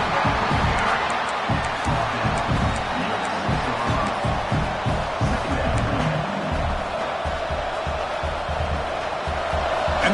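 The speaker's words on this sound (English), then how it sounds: "this crowd coming to life here, trying to help the defense get a stop" Stadium crowd in a college football video game, Florida at Texas A&M, swelling into a broad continuous roar of cheering under a commentator's play-by-play.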